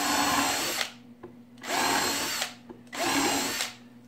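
Three bursts of a power drill boring holes into a wooden bee pallet, each whirring run lasting under a second with short quiet gaps between, close and clear.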